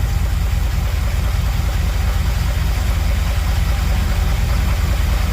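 A 1978 Dodge D200 truck's V8 engine idling loud and steady, running on all eight cylinders with a low, even rumble and slight rhythmic knock, continuously without pauses.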